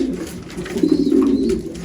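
A pigeon in a loft gives a loud, close throaty coo, a rolling low burble that swells in the middle and fades, with no one speaking.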